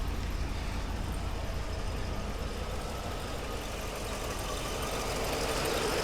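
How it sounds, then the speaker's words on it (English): A Mercedes 560SEC engine idles with a steady, even rumble and faint ticking that holds at one level throughout, close by and with no talk over it. "She idles good."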